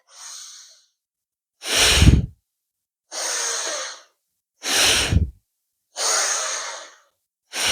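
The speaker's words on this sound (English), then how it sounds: "Breathing in and out through the nose." Slow, deep breaths drawn in and pushed out through the nose, five loud airy rushes with brief silences between them, close and steady.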